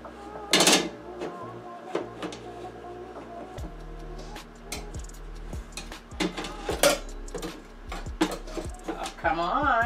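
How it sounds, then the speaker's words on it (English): A metal rack is pulled out of a Power Air Fryer Oven holding steak, giving a few sharp clanks and rattles followed by scattered lighter metallic clicks, close by amid kitchen hum, with a person talking. "I'm gonna take this rack out a minute so we can check out the steak"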